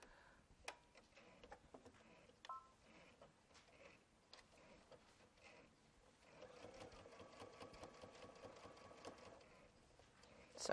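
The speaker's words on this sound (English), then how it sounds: "I'm top stitching down my quilt" A domestic sewing machine top stitches down a quilt's binding at a longer stitch length, its needle running in a steady rapid mechanical chatter with brief pauses, close and moderately loud, with no talking.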